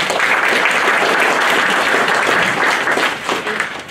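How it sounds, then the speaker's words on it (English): A crowd applauding steadily at a piano performance, loud and dense throughout, tapering slightly near the end. "She should get a round of applause."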